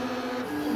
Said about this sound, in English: there's a 3D printer